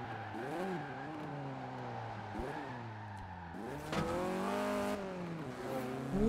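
A car in the Forza Horizon 4 racing game drives steadily with a continuous engine drone whose pitch rises and falls through gear changes, swelling into a louder rev midway, heard alone at moderate level.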